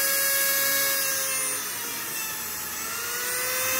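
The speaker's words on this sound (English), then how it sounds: "But I use a Dremel here" High-pitched whine of a Dremel rotary tool porting open a sludge pump shuttle bumper, a steady continuous grinding drone with slight dips in loudness, close and alone.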